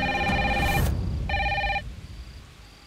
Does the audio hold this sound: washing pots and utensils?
no